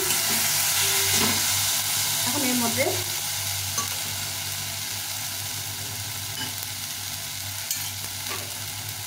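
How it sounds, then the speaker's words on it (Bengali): Chopped tomatoes fry with a little salt in a pan for street-style ghugni, giving a steady close sizzle with stirring scrapes throughout; a voice speaks briefly. "টমেটোটা কিছু ভাজা হয়ে গেছে কিছুটা।"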